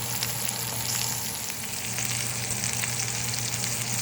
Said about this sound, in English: La Creuset cast iron making steak